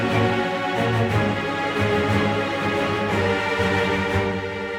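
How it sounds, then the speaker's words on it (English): An orchestrated chord progression played over a descending bass line, a sustained ensemble texture that shifts chords at steady intervals, full and continuous. "let's listen to how it sounds when I have this descending bass line underneath."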